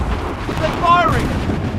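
Cannon artillery fire in the video game Assassin's Creed III, a low rumbling boom spread across the scene beneath shouted voices.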